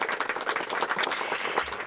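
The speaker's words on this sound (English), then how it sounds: "So a round of applause for Angie" A crowd applauds in a steady, dense patter of claps that runs the whole time at fairly close range, with no talking.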